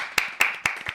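Brief applause breaks out in a talk-show studio: three or four distinct, close claps spaced evenly within a second, fairly loud, with no voices.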